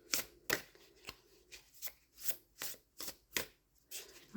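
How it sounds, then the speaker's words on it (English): Tarot cards being shuffled by hand give a soft, steady run of about a dozen quick riffling bursts, faint and close, with no talking. "Finding it hard to shuffle today."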